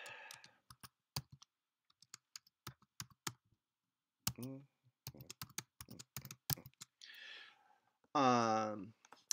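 Keystrokes on a computer keyboard click in quick irregular bursts, some fast runs and some single taps, with short sighs and breaths between them and no speech.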